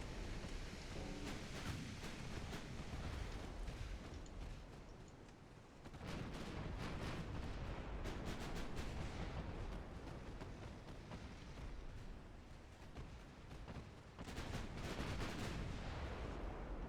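Naval artillery gunfire in the video game Ultimate Admiral Dreadnoughts, a dense, continuous roar of heavy booming shots that dips briefly twice before surging back at full loudness.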